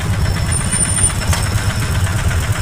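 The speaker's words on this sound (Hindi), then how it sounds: "ट्रैफिक जाम लग गया भाई।" Trucks and engines idle and rumble in a road traffic jam, a steady low drone close by with a faint high tone above it and no talking.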